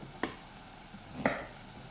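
Chopped carrots dropped into a pot for carrot and red lentil soup, two soft separate thuds about a second apart, quiet and close with no talking.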